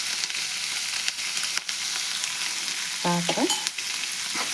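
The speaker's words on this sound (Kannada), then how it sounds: "ಇದೇ ಎಣ್ಣೆ ಒಳಗೆ ನಾನು ಹಾಕ್ಕೊಂಡೇನಿ ಉಳ್ಳಾಗಡ್ಡೆ" Onion frying in oil in a pan for a chutney served with dosa, a steady broadband sizzle throughout with brief stirring scrapes, a short spoken word near the end.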